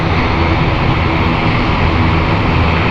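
Loganair ATR turboprop taxiing to its stand at London City Airport, a loud, steady propeller drone and engine roar that holds unbroken throughout.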